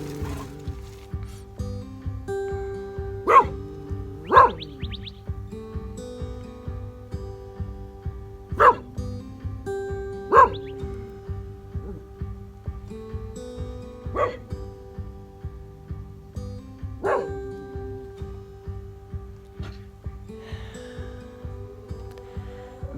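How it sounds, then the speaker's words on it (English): A dog barks outdoors in single sharp barks spaced a second or more apart, some louder than others, over a steady low hum, with a second dog standing alert nearby. "Buddy barks and Mona stands in alert, just in case there's something out there"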